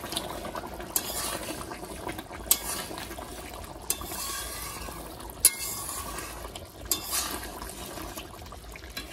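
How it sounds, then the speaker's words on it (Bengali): A pot of meat curry bubbles on the stove with a steady wet simmer, broken by a few sharper pops and clinks spaced a second or two apart, close and moderately loud with no talking. "টক করে ফুটছে কেমন মাংসটা।"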